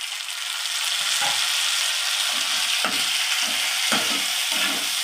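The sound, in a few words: dried chilies, chopped chili and tomato frying in a pan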